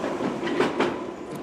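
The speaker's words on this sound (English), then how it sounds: "trains are running" A London Underground train runs along the track with a close rumbling roar and quick rhythmic clacks of wheels passing over rail joints.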